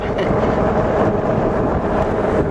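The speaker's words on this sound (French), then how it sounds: "Les pneus, ça va être la chose la plus bruyante, à part la béquille." Fat tyres of a Himiway Cobra electric full-suspension fat bike roll with a dense, steady rumbling roar, loud and close, with no talk over it.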